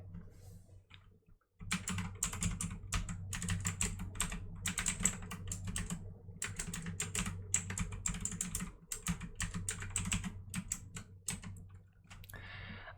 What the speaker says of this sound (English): I will gladly provide you some typing sounds.